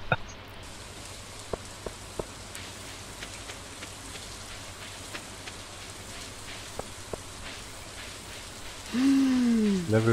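Steady rain falls as a soft, even hiss in the Stardew Valley video game, with occasional small taps and a brief louder swelling sound near the end; no talking.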